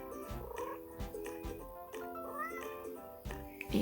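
Cats meow repeatedly in a video game, several short tonal mews in a quick, uneven sequence, close and clear, with a few higher squeaks and no talking.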